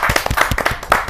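Steady hand clapping from an audience at a Hindi poetry gathering, welcoming a senior lyricist to the stage; brisk, dense claps filling the short moment on their own.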